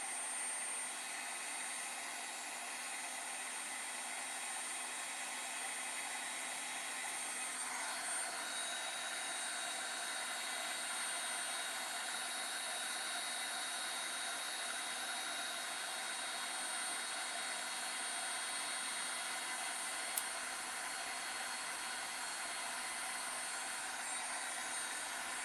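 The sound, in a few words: heat gun running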